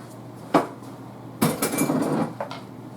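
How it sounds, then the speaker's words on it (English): A utensil stirs garlic and all-purpose flour in a pan for a lower-calorie beef stroganoff, giving a sharp clink followed by a burst of scraping and clattering, then one last knock, with no talking. "Stir this up."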